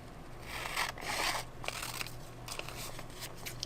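Scissors snip through a paper sheet while making crafty cups, giving a close series of crisp crunchy cuts and rustles, with longer slicing strokes early and shorter ticks after.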